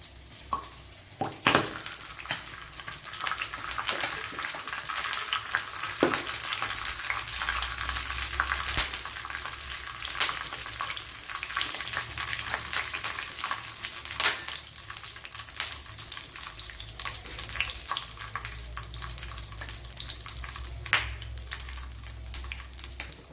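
Mustard seeds splutter in hot coconut oil, a constant sizzle broken by scattered sharp pops and crackles.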